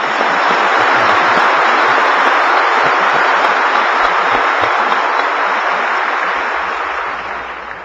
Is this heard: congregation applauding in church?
yes